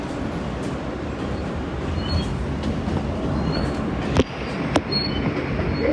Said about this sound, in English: This is a Coney Island, Stillwell Avenue bound F train via the D line